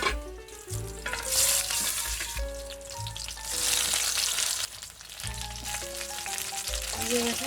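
Brinjal (eggplant) slices frying in hot oil crackle and sizzle loudly and continuously, with surges of spattering over a background of cooking noise.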